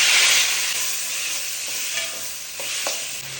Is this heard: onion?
yes